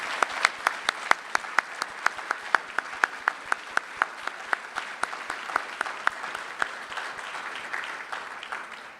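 Luncheon guests applaud steadily throughout, a dense wash of clapping with sharp individual claps standing out near the front.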